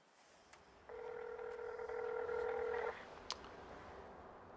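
A telephone call is dialed, giving a steady layered dial tone of about two seconds with a faint key beep before it and a short click after, heard alone over a quiet background hum.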